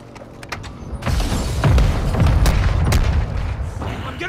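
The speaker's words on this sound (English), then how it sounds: "They're shooting through the windows." Sniper gunfire in Call of Duty: Modern Warfare II, with booming shots and impacts that build into a dense, loud barrage partway through and keep rumbling, with quieter sharp reports before it.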